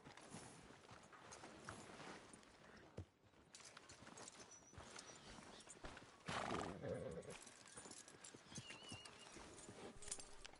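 Steady clip-clop of horse hooves with a loud whinny partway through, game sound effects from Red Dead Redemption 2 and faint voices around it.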